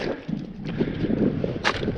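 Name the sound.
wind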